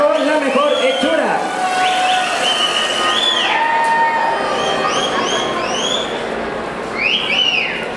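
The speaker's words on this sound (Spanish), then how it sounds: "Fuerte el aplauso al equipo The Con" A crowd at the WCS México 2018 awards ceremony cheers and whistles for a winning team, with steady loud noise under repeated rising whistles and voices throughout.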